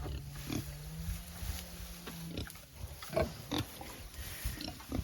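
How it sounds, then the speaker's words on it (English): Several pigs in a small pen on an off-grid homestead grunt and snuffle close by in short, irregular bursts, with rustling and shuffling between the calls and no talking. "3 pigs in a small pig place."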